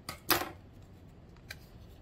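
Scissors snipping paper while making a book spine, one louder crisp cut followed later by a fainter second snip, close and quiet.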